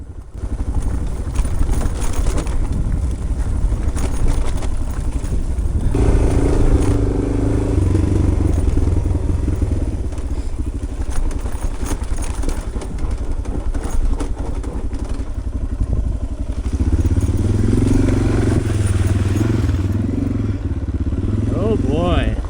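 A loaded dual-sport motorcycle creeps down a loose, steep descent on a backcountry trail in British Columbia, its engine idling and burbling low with gravel clatter, while a rider talks over it.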